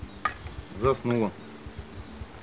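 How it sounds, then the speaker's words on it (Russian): A honeybee buzzes briefly up close at a hive, a couple of short droning bursts over faint background noise. "Пчела."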